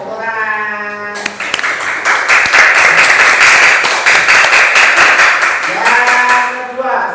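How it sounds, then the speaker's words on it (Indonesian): Children in a computing lesson break into a burst of clapping applause lasting several seconds, dense and steady, with voices before and after it. "Iya, tepuk tangan."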